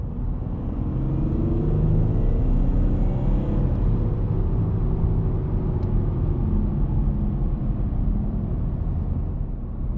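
Audi A4 Avant 50 TDI Quattro diesel accelerating hard under throttle, a steady loud engine drone and road rumble heard from inside the cabin, rising in pitch across the pull.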